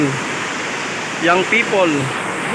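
Capnayan Falls pours as a steady, full rush of falling water close by, a constant broadband roar under brief bursts of voices talking.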